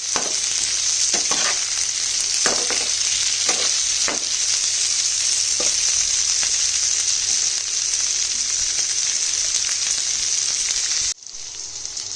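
Chilli chicken with green chillies stir-fries in a pan with a steady, loud sizzle. Intermittent scraping strokes of the spatula cut through it, and the sizzle drops abruptly near the end.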